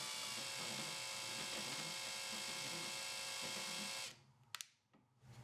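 Drill-powered table crank on a drill press running with a wobble from a crooked hex shaft in its adapter, a steady loud mechanical whir that stops abruptly, followed by a few faint clicks.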